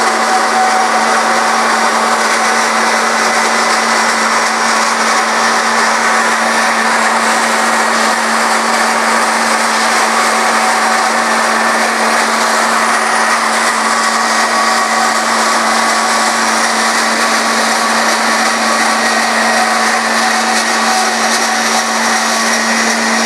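The motor of a Model 480i cutting machine drones at a constant, loud, high pitch as it cuts a plastic tote. The whine is steady and uninterrupted from start to finish, with no voices.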